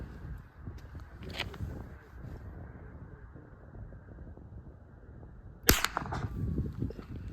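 A Springfield 87A .22 semi-automatic rifle, set to single-shot mode, fires one sharp, close crack near the end at an outdoor range. A fainter click comes earlier, and steady wind noise runs throughout.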